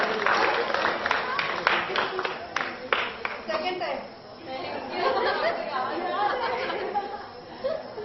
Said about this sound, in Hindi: जोरदार तालियां विनर के लिए, थोड़ा जोर से, थोड़ा लंबा हाथ करके जोर से बजाइए।